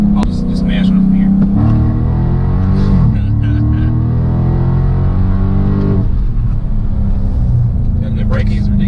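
A car accelerates hard from a light, its engine loud and close, pitch climbing steeply through two gear changes before settling, while people talk inside the cabin.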